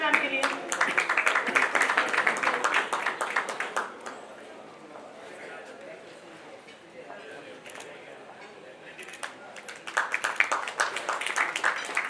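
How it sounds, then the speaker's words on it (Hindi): Applause from an audience at a stage event honouring a guest, a dense burst of clapping at the start that fades to a low murmur, then swells again loudly near the end. "एक बार जोरदार तालियां हो जाए मैम के लिए।"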